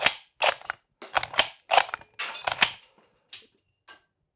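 A Lee-Enfield rifle in the game Hell Let Loose fires a run of sharp, close shots in irregular succession, with metallic bolt clicks and ejected cases between them, fading toward lighter clicks at the end.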